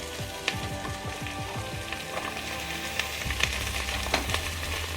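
Crab (alimasag) dropped into a hot pan for ginataang alimasag, bursting into a steady close sizzle and frying crackle with a few sharp pops and clatters, no voices.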